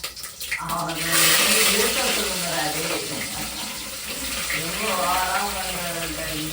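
Cinnamon, cloves and onion fry in hot oil for a biryani, giving a steady, broad sizzling hiss that continues under a person talking throughout.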